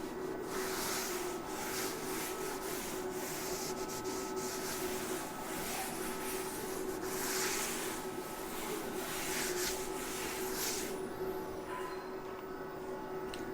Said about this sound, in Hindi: मैं इसको थोड़ा रब कर लेता हूँ, इस कंडीशन को हटा देता हूँ।